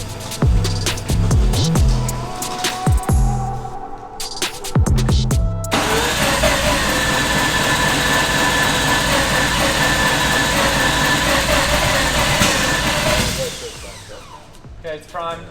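A four-rotor rotary engine in a Toyota Supra sputters over several short cranking bursts, then catches and runs loud and steady before dropping off, with voices heard around it.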